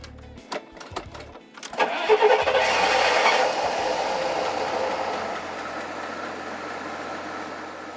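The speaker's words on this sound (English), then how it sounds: "The sort of humming sound you hear was the vacuum pump." Engine of a GMC motorhome starts: a few sharp clicks, then a rising whirring hum from its vacuum pump that swells loud and settles into a steady drone, gradually easing off near the end.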